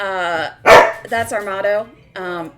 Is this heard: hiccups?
no